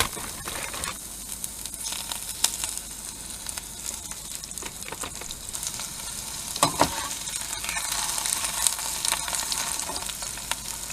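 Onions fry in olive oil in a small RV kitchen, giving a steady close sizzle with occasional crackles and light scraping stirs that grow slightly louder toward the end.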